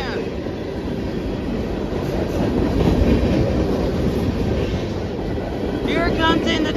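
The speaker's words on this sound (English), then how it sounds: "Here comes in the train" A CSX freight train rolls past at close range, a steady heavy rumble with wheel clatter that swells in the middle and picks up rattling squeals near the end, with no voices.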